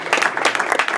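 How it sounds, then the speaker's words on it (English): A crowd at a boxing post-fight press conference gives a short burst of clapping for Victor Ortiz, close and fairly loud, with dense overlapping claps over about a second. "Let's get a round of applause for Victor Ortiz."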